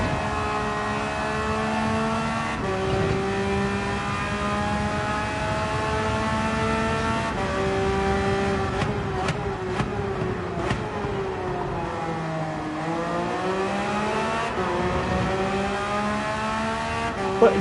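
A Porsche race car in Gran Turismo 7, its engine droning loudly and continuously with pitch rising through the gears, dropping, and climbing again, plus a few brief clicks of gear changes midway.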